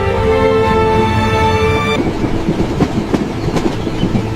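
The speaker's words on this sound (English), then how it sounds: "The train from Paris rattled southward through the French countryside." A train rattles southward from Paris through the French countryside, first a steady harmonic hum, then irregular clicks and clanks of wheels over rail joints, loud and continuous with no voices.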